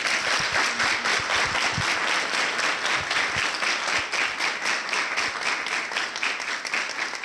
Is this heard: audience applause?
yes